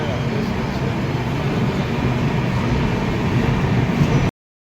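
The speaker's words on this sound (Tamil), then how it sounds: "ரயில் ரிவர்ஸ் எடுக்கிறாங்கடா." A train reverses near Coimbatore, heard as a steady, loud rumble with hiss throughout. It cuts off abruptly near the end.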